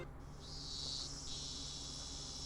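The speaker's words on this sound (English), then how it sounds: "The great chorus of cicadas was strongly underlining how nothing was different today than yesterday." Cicadas drone in a loud, continuous chorus within the game Higurashi When They Cry, a high shrill buzz swelling and dipping slightly over a steady background hum.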